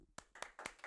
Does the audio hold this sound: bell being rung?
no